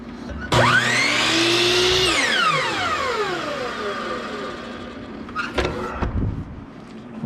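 A power saw spinning up and lightly shaving the edge of wooden trim for a coffee table: a loud whine rises, holds briefly, then winds down slowly, followed by a few short clacks as the wood is handled.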